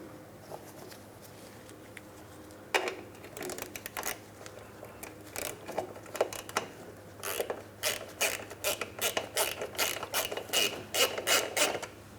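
Ratchet tightening a splash shield mounting bolt into its port on the underside of a Mitsubishi Outlander, with rapid repeated close clicking strokes that grow quicker and denser over a low steady hum.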